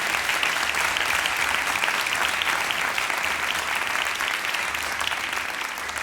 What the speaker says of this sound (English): Guys, round of applause for Sayyid Ammar